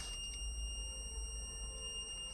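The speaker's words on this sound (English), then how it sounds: "So it is making a sound, which means this is the active buzzer." An Arduino active buzzer sounds a faint, steady high-pitched tone, continuous and unchanging, with a low hum underneath and no voices.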